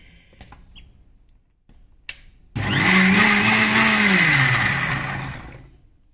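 A mixer grinder coarsely grinding onion tomato chutney starts after a few small clicks and lid sounds, then whirs loudly for about three seconds with a rising and falling motor pitch before spinning down. No voices.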